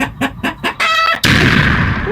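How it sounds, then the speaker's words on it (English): A chicken in the horror video game Subway Horror gives a string of loud, close clucks, then a short crowing call, and a sudden burst of harsh noise cuts in after it. "Why is there a long chicken now?"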